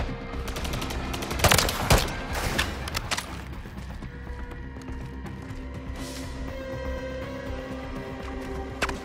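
Gunfire from Call of Duty crackles in a burst of sharp close shots early, then thins into scattered distant reports over a steady battlefield din.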